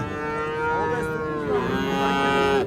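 A loud, drawn-out moo from a calf close by at a livestock market, rising and falling in pitch over a couple of seconds, with faint background noise.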